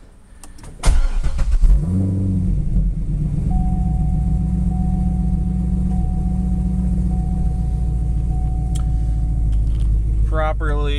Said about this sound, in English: They have long tube headers on it and a full dual exhaust, so it's a little louder.